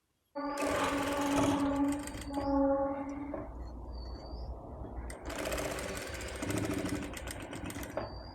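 A sewing machine stitches the shoulder seam of a baby outfit, a silk pavada and top. It runs in loud, close, rapid mechanical bursts with a brief slower stretch between them, and no voices are heard.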